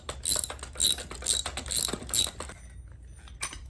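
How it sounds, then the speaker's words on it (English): A screw being unscrewed from a shotgun stock gives a quick series of sharp metallic ratcheting clicks in regular bursts, close up, before fading to near quiet. "Next up, we're going to unscrew the stock."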